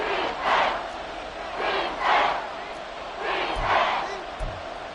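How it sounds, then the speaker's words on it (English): Stadium crowd in a Madden football video game rising in swelling waves of cheering and roaring near the goal line, with loud surges repeating every second or so. "This crowd doing all they can."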